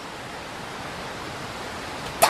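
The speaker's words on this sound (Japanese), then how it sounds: "滝だ！" A waterfall is heard as a steady, soft, broadband rush of falling water, even and continuous, heard alone from some distance.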